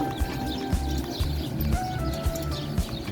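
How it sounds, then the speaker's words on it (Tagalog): Birds chirping and tweeting in scattered short calls over a steady outdoor background with occasional knocking sounds. "Sarap pakinggan yung mga huni ng ibon."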